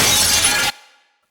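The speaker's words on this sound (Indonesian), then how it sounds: "kaca jendela pun pecah" A glass window shatters in a film robbery scene, one loud burst of breaking glass that cuts off abruptly and leaves a short fading tinkle, with no voices.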